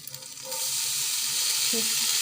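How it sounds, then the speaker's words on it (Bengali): Boiled rice goes into a hot pan with cardamom and cinnamon, and a loud, steady sizzle swells up and holds. Near the end comes a brief stirring scrape. "নেড়ে চেড়ে চাউলগুলো দিয়ে দেব।"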